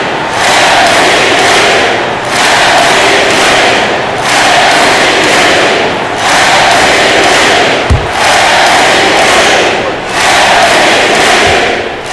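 A packed arena crowd in the NBA 2K25 basketball game roars and chants in rhythmic surges, loud and near. A few dull thumps cut through the steady crowd noise.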